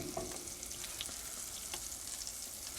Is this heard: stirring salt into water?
no